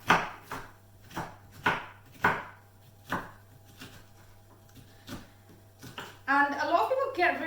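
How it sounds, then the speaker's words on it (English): A knife chops a sweet red pepper into chunks on a board, a series of crisp, evenly spaced thuds close up, followed by a louder burst of rapid scraping and rustling. "So I'm going to chop in a sweet red pepper."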